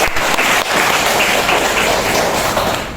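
An audience of students claps together at an indoor talk, a dense, steady patter of many hands that fills the room and tapers slightly toward the end.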